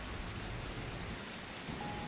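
Light rain falls steadily as a quiet, even hiss of drops on surfaces, constant throughout with no voices.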